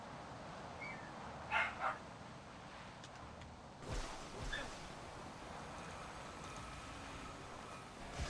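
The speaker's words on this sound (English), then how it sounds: "My dog is barking because the grocery showed up." A pet dog indoors barks at a grocery delivery arriving: a quick pair of faint, distant barks, then a couple of softer yips, over steady low room noise.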